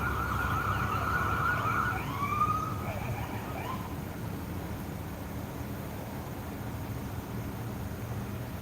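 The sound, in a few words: ambulance siren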